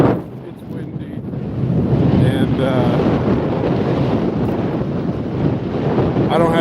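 Strong wind buffets the microphone in a loud, continuous roar while someone rides an electric unicycle along the New Bedford coast, with a voice briefly speaking over it.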